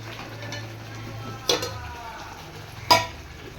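Spice masala and marinated mutton fry in a pan, a steady low sizzle broken by two sharp clanks of a spoon against the pot as they are stirred.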